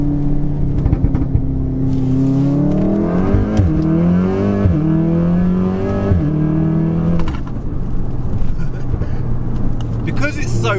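A 600 bhp Volkswagen Golf R, running again after a new battery, idles and revs in rising and falling swells, loud and close, with a voice talking over the engine.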